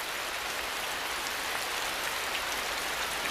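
Steady rain pours onto the canopy of a tropical rainforest in Asia, an unbroken dense hiss of falling drops.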